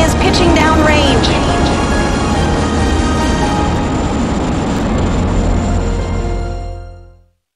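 SpaceX Falcon 9 carrying Crew 8 lifting off, a loud, continuous low roar with crackling texture that holds steady and then cuts away at the end, with faint voice-like tones at the start.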